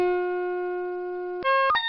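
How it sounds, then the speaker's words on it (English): Raw sound samples from the Game Boy Advance game Super Mario Bros. Advance 4 play back as clean, sustained electronic tones, one long steady note followed by a quick series of short pitched blips. "what you're hearing here is all the sound samples that are used in the music of Super Mario Bros."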